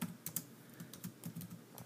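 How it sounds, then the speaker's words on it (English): Slow, one-handed typing on a computer keyboard: a sparse, uneven string of soft clicking keystrokes close by, with gaps between presses and no voices. "A little slow typing with one hand."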